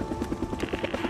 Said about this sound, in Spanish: El helicóptero de nuevo.